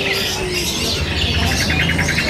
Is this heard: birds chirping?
yes